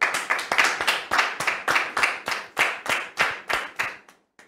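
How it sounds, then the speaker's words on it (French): Studio audience on a French-language television talk show clapping in a steady burst of applause, sharp rhythmic hand claps that thin out and stop near the end. "Sous vos applaudissements, s'il vous plaît."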